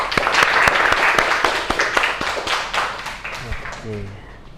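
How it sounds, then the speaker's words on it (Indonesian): Classroom applause following a group presentation: a burst of scattered claps from a group that thins out and fades, with a voice speaking near the end. "Kita beri aplaus."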